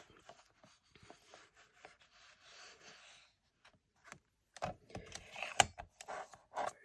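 Decorative patterned paper from a Crafters Companion Nitwit Kindly Thoughts collection being cut for a handmade card: soft rubbing and handling at first, then a run of close, crisp cutting and scraping strokes, with no voices.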